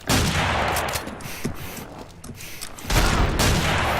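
Sniper rifle quick-scope shots in the online shooter Combat Arms, loud sharp gunfire bursts with reverberant tails, one cluster near the start and another heavy volley near the end, no talking.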